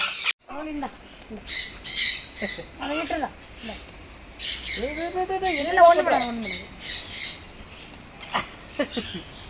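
Colourful parrots squawk loudly and repeatedly in an aviary at Yercaud's bird park, harsh overlapping calls in bursts as they squabble close by, with people talking among them.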